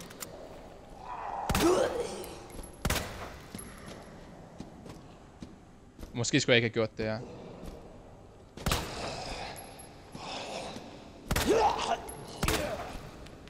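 Gunfire at zombies in Resident Evil 2: several sharp, loud shots spaced a few seconds apart, with a brief rapid rattle in the middle, while someone speaks in between.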